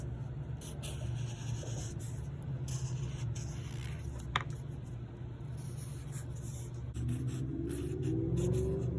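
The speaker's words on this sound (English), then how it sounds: "you can take the leaf and cover it and then trace it. Do an outlining of the leaf. I'm going to do it in pencil" A pencil traces the outline of a leaf on paper, giving soft, continuous scratchy strokes with brief pauses, close and quiet over a low steady background hum, with no talking.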